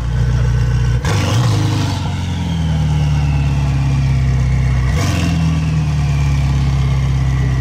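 A Pagani Huayra Roadster idles loudly in Monaco with a deep steady rumble, broken by two sharp throttle blips about four seconds apart, close by.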